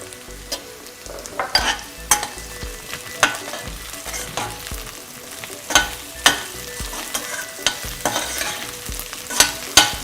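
Brinjal pieces with curry leaves frying in hot oil, a close steady sizzle with repeated sharp clinks and scrapes from stirring at an uneven pace, no talking.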